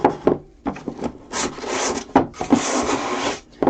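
Hand sanding a mannequin with coarse 60 grit sandpaper makes loud, close rasping strokes in uneven bursts with brief pauses between passes, and no voices.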